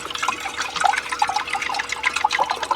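Water is poured into a cup for freeze-dried instant coffee at a solo truck campsite, a close, continuous splashing gurgle with bubbly trickles running steadily throughout.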